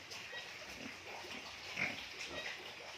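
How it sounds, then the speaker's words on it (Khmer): Pigs on a livestock farm in Kampong Thom, Cambodia, grunting softly and intermittently at a moderate distance over steady background noise, with one slightly louder grunt midway. "ហើយជ្រូកក៏ល្អដែរបាទនេះ"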